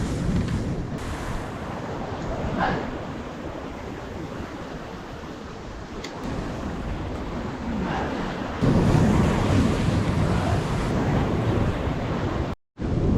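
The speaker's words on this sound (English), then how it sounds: "Oh yeah, there's some big water movement." Big ocean swell surging against a secluded rocky headland in Indonesia, a steady roar of surf with rising wave rushes and wind buffeting the microphone, no talk.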